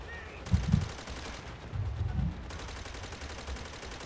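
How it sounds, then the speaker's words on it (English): Machine gun fire in Call of Duty: World at War, heard as low, rumbling bursts at moderate distance, two short clusters of thudding shots amid a steady battlefield din, no speech. "Oh, those are machine guns."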